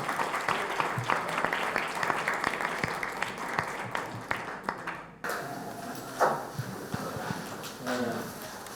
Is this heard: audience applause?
yes